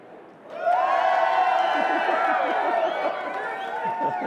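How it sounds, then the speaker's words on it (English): A large conference audience breaks into loud, sustained cheering and applause, with whoops rising above the clapping. "Very unsolicited, provoked applause."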